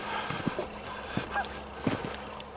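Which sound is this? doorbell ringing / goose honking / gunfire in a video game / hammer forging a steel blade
goose honking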